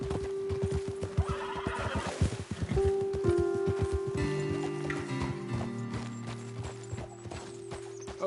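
Horse hooves clip-clop in Red Dead Redemption 2, a steady close rhythm of hoofbeats with a loud whinny partway through, backed by mechanical ticking and a sustained musical tone.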